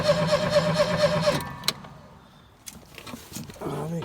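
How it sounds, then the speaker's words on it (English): Cold start of an old Bobcat 632 skid steer with a weak battery: a rhythmic, labored engine crank chugs steadily for about a second and a half, then stops, leaving faint clicks and low background noise, with another brief mechanical whir at the end. "Oh, she's cranking."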